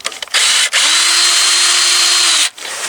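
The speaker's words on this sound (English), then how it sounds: "I grabbed the drill with a Phillips" A power drill fitted with a Phillips bit is used outdoors on a Troy-Bilt rototiller, a loud, close, high whine in one sustained burst of about two seconds after a brief blip, stopping cleanly.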